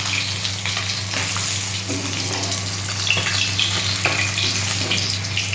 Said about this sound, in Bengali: মাছটা আমি হালকা লালচে করে ভাজি।